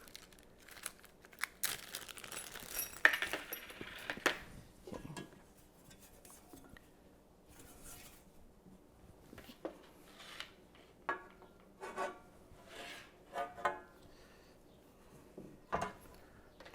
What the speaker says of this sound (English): we're gonna put the washer through the bolt